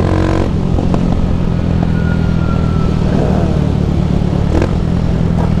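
A 150 sport motorcycle fitted with a 280cc engine rides along, its loud, close engine droning steadily, with a brief rev change early and some mechanical clatter.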